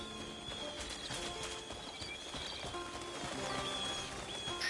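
Video game horse in Crimson Desert: hooves clip-clop in a quick, steady rhythm, with a soft whinny and faint ambient patter behind, at a moderate distance.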